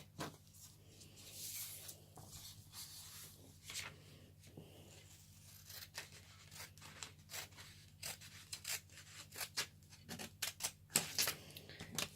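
Scissors cutting a paper key sheet for a diamond painting, with quiet, close snips and rustling that come in irregular bursts against a low background hum.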